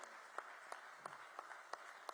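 Faint, distant audience applause at a government urban development event in Gujarat, with soft rhythmic claps rising at a steady pace throughout.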